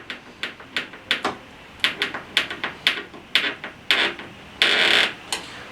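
A flathead screw being driven to fasten a piece of model train track down to its roadbed, heard as a close, loud series of sharp clicks and ratcheting scrapes in an uneven rhythm, ending with a longer grinding turn.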